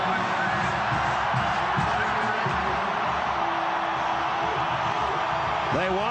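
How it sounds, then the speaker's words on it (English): A loud home stadium crowd roars steadily at a Tennessee versus Auburn college football game, a constant dense wall of noise with a voice rising near the end. "They've got the loud crowd."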